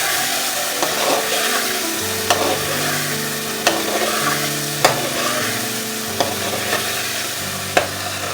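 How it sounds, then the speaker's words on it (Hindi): Chicken with ground coriander frying in a pan, being stirred for several seconds, giving a continuous close sizzle with regular scraping strokes and occasional sharp knocks over a steady musical backing. "अब दोबारा बहुत अच्छी तरह से हम चिकन को भून लेंगे।"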